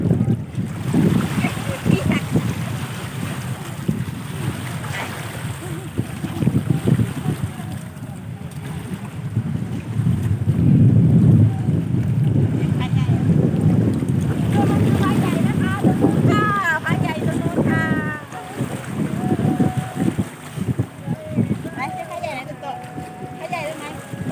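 Steady wind buffets the microphone over the lapping and rushing of open lake water, with occasional voices and faint knocking in the background.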